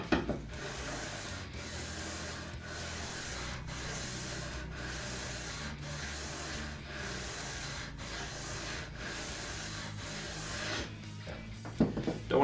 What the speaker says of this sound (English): Don't want to sand too much, because it is already at the right radius